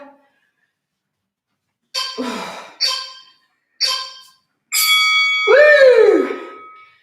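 A workout interval timer ends with a final bell: three short ringing dings, then a longer, louder chime that swells and slowly fades, all close and clear with no talking over it.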